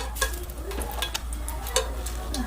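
Cloves, cardamom and cinnamon sizzling in hot coconut oil in a pot for chicken biryani, a soft steady crackle close by, broken by several sharp ticks and clinks of a spoon against the pan.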